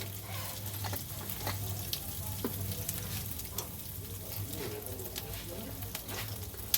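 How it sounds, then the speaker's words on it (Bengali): Three whole dried red chillies and cumin seeds sizzling in hot oil for a potato, paneer and soya curry, a dense continuous crackle and spatter close up, with no voices. "আমি 3টে গোটা শুকনো লঙ্কা আর খানিকটা জিরে ফোড়ন দিয়ে দেব।"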